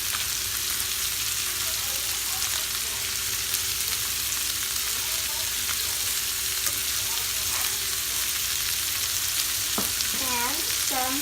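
Vegetables frying in a pan on a stove over high heat give a steady, close sizzle with scattered stirring scrapes and a few clinks near the end, with no talk.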